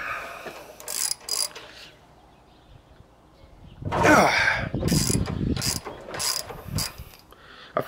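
A ratchet and socket from a budget mechanic's tool set tightening a bolt, clicking in several short bursts of ratcheting with pauses between, close and fairly loud.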